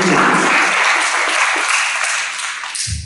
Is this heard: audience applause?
yes